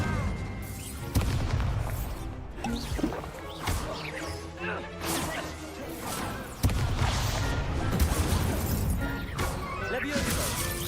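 Fire spell effects in a Harry Potter wizard video game, a series of crashing, booming impacts and bursts over busy battle noise, with voices talking throughout.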